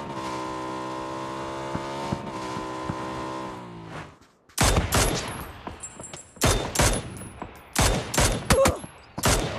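Gunfire in a PUBG esports match, a burst of sharp, loud shots in quick irregular clusters after a few seconds of steady droning engine or vehicle hum, with no talk.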